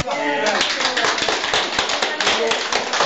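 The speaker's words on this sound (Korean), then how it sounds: "박수 한번 합시다" A small group at an immigrant gathering claps their hands in a brisk, uneven burst, close and fairly loud, with voices talking and calling out over the clapping.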